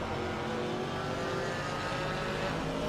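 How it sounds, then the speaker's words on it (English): Flat-six engine of an 84 Porsche racing at Brands Hatch in a GT4 sim racing game buzzes continuously, a steady mid-pitched drone with layered harmonics, moderately loud and unbroken. "You can hear the buzzing of that flat 6 in the back of the 84 Porsche."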